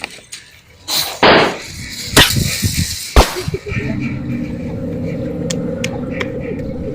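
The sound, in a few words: gunshot in a comedy skit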